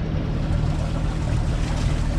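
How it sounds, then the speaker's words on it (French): A sailboat's engine runs at about 1500 rpm while under mainsail and genoa at sea, a steady, loud low rumble mixed with rushing water and wind, continuous and close with no talking. "Et on marche au moteur depuis 1h30."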